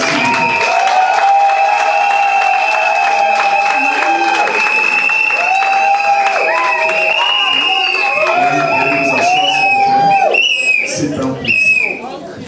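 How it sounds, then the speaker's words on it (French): Wedding guests at a civil ceremony applaud the couples, sustained clapping from the crowd mixed with whistles and cheers, loud and continuous before tapering off near the end. "Veuillez applaudir comme il se doit pour vos couples."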